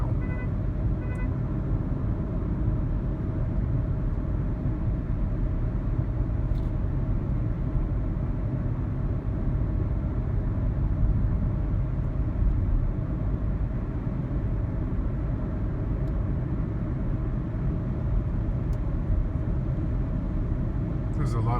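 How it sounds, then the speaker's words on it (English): Steady road traffic rushing past a moving car on a busy weekend coastal road near the ocean, a continuous broadband roar of engines and tires with no clear individual passes. "There's a lot of traffic out here today."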